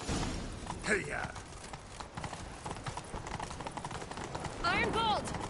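A horse galloping in The Witcher 3, with steady rhythmic hoofbeats throughout and a whinny near the end, while voices talk over it.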